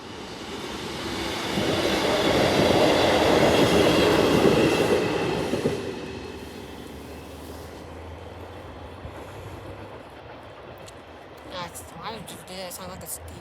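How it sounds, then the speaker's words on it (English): A train passing at Melton level crossing, its rumble swelling loudly over the first seconds, then fading into the distance as people talk nearby. "It sounds like a steam train."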